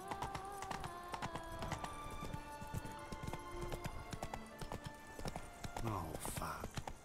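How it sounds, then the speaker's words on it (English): Horse hooves clip-clop at a quick, steady pace in The Witcher 3, close and clear, with a brief neigh near the end. "Run, Roach"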